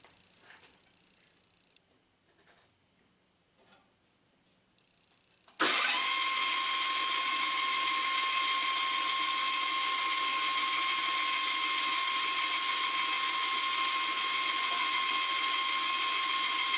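A power tool starts abruptly after several seconds of near silence and then cuts into wild cherry wood with a loud, steady, high-pitched whine that holds unbroken to the end.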